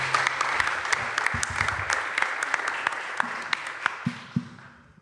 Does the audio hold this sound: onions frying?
no